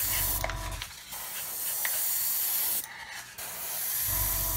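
Two long hissing bursts from an aerosol spray can painting a 1/144 scale Saturn V model over masking tape, each lasting a couple of seconds with a short pause between, close and fairly loud.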